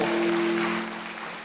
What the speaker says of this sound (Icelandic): Ekki bara gefa gott klapp.